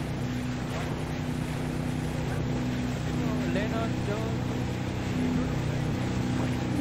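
Motorboats in the ArmA 3 video game drone steadily as they head toward a beach, a continuous engine hum with wind noise throughout, loud and close.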